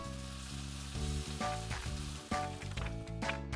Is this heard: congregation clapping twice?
no